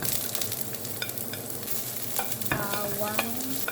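Onion for pancit bihon sautés in a pan with a continuous soft sizzle, and utensils scrape and clink against the pan now and then, close by with no talking.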